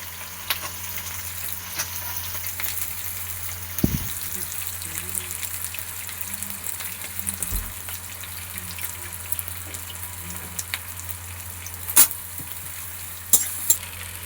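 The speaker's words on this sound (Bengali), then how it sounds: "পেঁয়াজটাকে একদম লাল করে ভাজবো।" Onions sizzle in white oil in a pan for chicken pulao, a steady frying hiss with a few clinks of stirring and handling scattered through.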